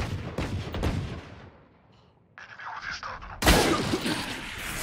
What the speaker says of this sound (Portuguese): Dá uns tiros correndo, Belk.